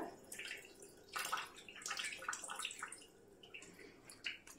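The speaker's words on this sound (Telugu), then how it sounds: "ఇంకా కొద్దిగా ఏదన్నా వాటర్ ఉంటే వంపేసుకోవాలి, నీరు లేకుండా" Faint splashing and trickling water, uneven spurts as water is poured off cooked fish, quiet and close with no talking.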